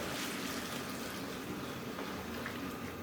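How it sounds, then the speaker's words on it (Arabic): Warm water streams steadily while being poured to mix country-style Egyptian baladi bread dough, a continuous close splashing hiss with no voices. "ميه دافيه،"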